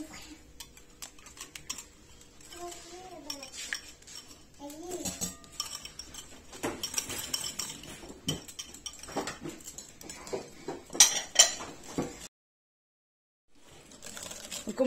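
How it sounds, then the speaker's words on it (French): A utensil clinks and scrapes against a bowl while fromage blanc batter with vanilla seeds is mixed by hand. The taps and knocks are quick and irregular, with a short silent gap near the end. "donc on mélange bien jusqu'à avoir un mélange homogène"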